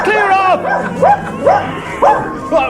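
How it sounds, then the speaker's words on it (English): A dog barking in a monastery garden: about five loud, close, yappy barks in a steady rhythm roughly every half second. "There's a dog in here now!"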